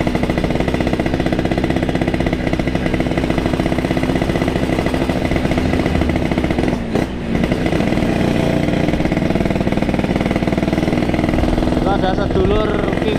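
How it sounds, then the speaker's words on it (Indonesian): A borrowed motorcycle rides along Jakarta city streets, its engine droning loudly and steadily up close with a brief dip mid-ride, while a voice talks over the engine noise. "Kita pelan-pelan aja soalnya motornya pinjem ini."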